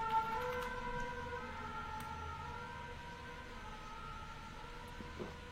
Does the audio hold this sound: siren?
yes